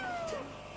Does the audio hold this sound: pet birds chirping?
no